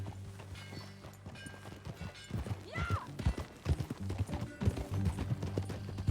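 Horse hooves clip-clop in a quick, uneven rhythm over a low steady hum, with a brief whinny-like tone partway through, from the video game Red Dead Redemption 2.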